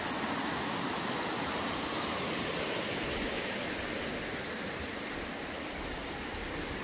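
Rushing water pours down at Jamryong falls, above a pool over three metres deep, in a continuous dense roar that stays even and close with no talking.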